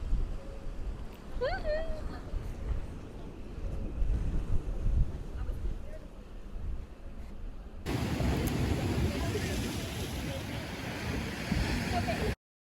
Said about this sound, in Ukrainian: Ми приїхали зараз на пляж